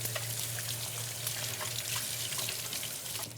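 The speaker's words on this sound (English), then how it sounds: "just washing with a cloth and the warm soapy water" Bi-level BiPAP mask parts are washed and rinsed in warm soapy water, with running tap water splashing and trickling steadily for a few seconds alongside a low background hum and no voices.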